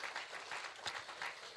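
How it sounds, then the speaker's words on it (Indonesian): A church congregation gives a short burst of applause during a sermon, quiet and somewhat distant, with brief overlapping claps. "Boleh kasih tepuk tangan yang meriah bagi Tuhan."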